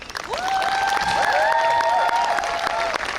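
An audience applauds and cheers for a group that has just finished singing at a Native American gathering, a dense, steady wash of clapping with whoops and calls sliding over it.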